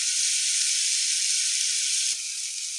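Vegetables with salt and masala sizzle steadily in a hot pan for vegetable kurma, a loud, continuous hiss that drops slightly in level near the end, with no talking.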